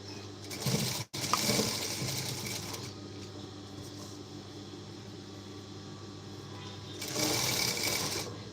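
A sewing machine stitches a princess-cut blouse with a quiet mechanical whir, running in a brief burst early, then more softly, and rising again in a louder run near the end.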